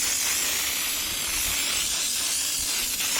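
CRC aerosol lubricant sprayed onto a Kobelco SK17SR mini excavator during a service, a continuous loud close hiss from the can held steadily throughout.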